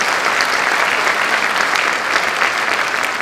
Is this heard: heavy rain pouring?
no